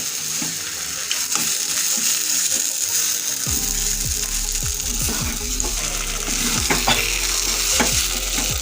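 Banana flower mixture for mochar chop cooking down in a pan, sizzling steadily while a spoon scrapes and stirs in a rapid, repeated rhythm up close; no talking.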